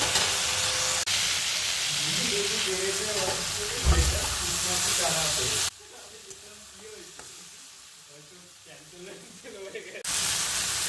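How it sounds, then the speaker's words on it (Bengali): Vegetables frying in a pan for mourala fish chorchori sizzle and hiss up close, with stirring scrapes and someone talking over the cooking; the sound drops quieter midway before returning. "সবজিটা একটু লাল লাল করে ভাজা হয়ে গেলে"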